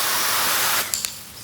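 A garden hose nozzle set to its mist pattern sprays outdoors as a steady, loud, close hiss that cuts off abruptly partway through, followed by a couple of small clicks from the nozzle.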